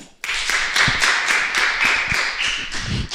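Members of a live podcast audience clap in reply to a poll question, the sound bursting in after a brief hush and continuing as a steady, fairly loud patter of many hands with a few stronger claps.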